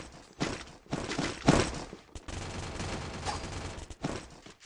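Gunfire in the battle royale game Free Fire, a UMP submachine gun firing repeated loud bursts of rapid shots separated by short gaps.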